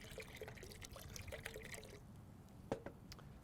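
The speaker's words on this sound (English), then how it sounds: "with some warm water, a good hearty glug of the Oktoberfest beer" Warm water and a hearty glug of Oktoberfest beer pour into a bowl for a brine, a soft continuous trickling that stops, followed by a faint clink.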